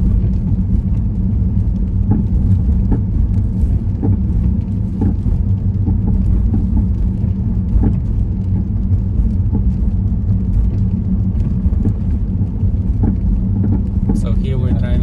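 A car drives through a residential street during a road test in Guelph; a steady, close interior rumble of engine and road noise continues without break.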